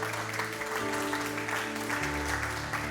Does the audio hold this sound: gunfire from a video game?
no